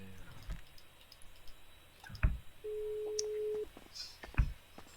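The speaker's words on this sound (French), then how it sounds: "Je vais essayer de rappeler Ethan" A phone call in the GTA RP video game sets off clicks and a steady dialing tone of about one second, with a few soft taps around it. Muffled talk sits faintly in the background.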